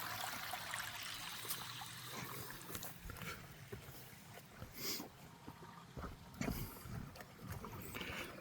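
Creek water caught by a 4-inch pipe pours down a flume toward a water wheel, making a soft, continuous rushing trickle heard faintly from close by.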